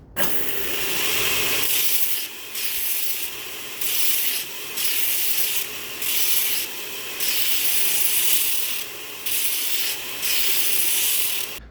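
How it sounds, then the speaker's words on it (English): A surface grinder cleans up the edges of a knife blade, with a steady machine drone under regular bursts of bright, hissing grinding as each pass sweeps across, loud and close with no speech. "I'm going to put it into the surface grinder to clean up both the edges"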